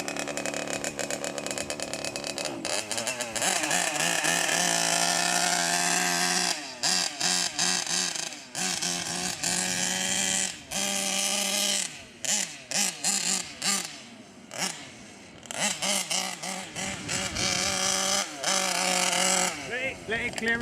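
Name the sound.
Losi 5T RC truck gas engine revving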